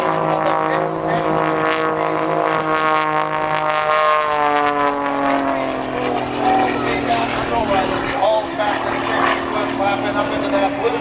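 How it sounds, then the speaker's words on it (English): Aerobatic airplane rolling along the show line at the Abbotsford airshow, a steady loud propeller-engine drone with shifting harmonic pitch as it passes, sustained throughout with commentary running over it. "rolls the airplane now all along the show line"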